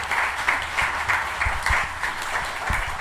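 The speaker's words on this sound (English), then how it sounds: "So let's give a round of applause to the award-winning writer and man of the hour, Anthony Joseph" Audience applause at a literary festival interview event, a short burst of many hands clapping in uneven pulses at moderate loudness, with no speech over it.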